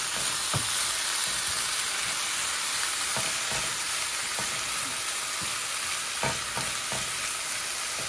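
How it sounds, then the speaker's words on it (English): Potatoes fry in a pan with a steady, bright sizzle. Every second or so a utensil scrapes through them with a sharp stirring stroke, close by and with no voices. "I'm going to move over here and I'm going to stir up the potatoes"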